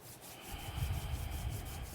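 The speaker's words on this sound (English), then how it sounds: "Rub your hands together so that your palms get warm." A pair of palms rubbed briskly together to warm them gives a close, dry, continuous swishing friction that builds after a brief start and holds steady, with no talking.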